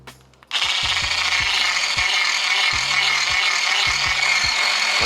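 An electric mixer whisks a banana pudding mixture, giving a loud, steady whirring drone with faint clicks and knocks from the beaters against the bowl, starting abruptly after a brief quiet moment.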